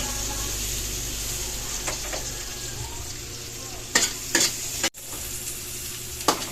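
Onion and garlic sauté in oil left over from frying fish, a bright continuous sizzle over a low hum, with a few sharp stirring knocks and scrapes near the end.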